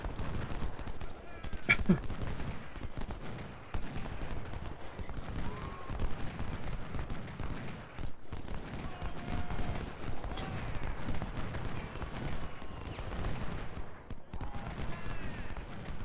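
Musket volleys and scattered rifle fire crackle steadily throughout in the Civil War strategy game Ultimate General: Civil War, Cedar Mountain battle, a dense, continuous battlefield din with no clear talk.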